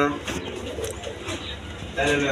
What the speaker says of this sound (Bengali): হাই ফেলিং কবুতর